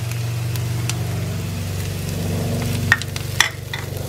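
Capsicum fries with onion and garlic in a pan while preparing chilli potato, giving a steady close sizzle with a low hum underneath and a couple of sharp clinks of stirring near the end.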